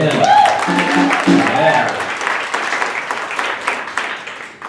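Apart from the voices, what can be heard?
audience applause for the house band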